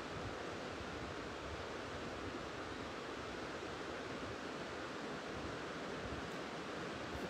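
Steady broadband rush of a river running fast but smooth out in nature, continuous and fairly close, with no voices over it.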